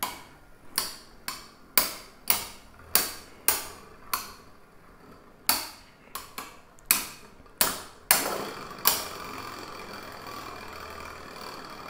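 Super small Beyblade spinning tops battling on the ground outside their stadium: a close, irregular run of a dozen or so sharp clacking impacts, each snapping out and fading quickly, with faint scraping between hits.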